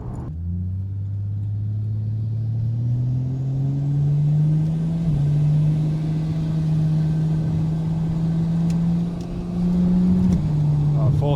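A car engine pulls steadily in fourth gear through traffic, a loud continuous drone that climbs slowly in pitch over about eleven seconds, with a brief dip near the end.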